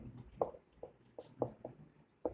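Chalk or marker writing on a board in a chemistry class, a series of short scratchy strokes and taps in an uneven rhythm, close and fairly quiet, with no voice over it.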